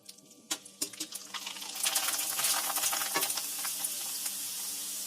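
Sun-dried rava kurdai frying in hot oil, a few sharp clicks and drops at first, then a steady, close hissing sizzle that swells and holds to the end with no talking.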